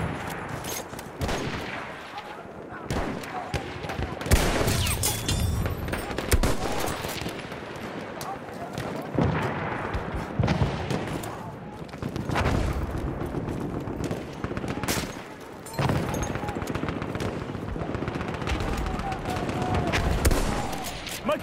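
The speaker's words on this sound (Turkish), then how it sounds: "Düşman makinalı tüfeği." Enemy machine guns rattle in long, dense bursts across a Battlefield 1 battlefield, loud and close, mixed with scattered rifle shots and booms in a near-continuous barrage.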